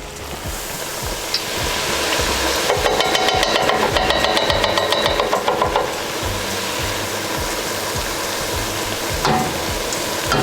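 Buñuelos de viento, fried dough fritters, frying in a pot of hot oil, with a steady, loud crackling sizzle and scattered sharp pops running throughout.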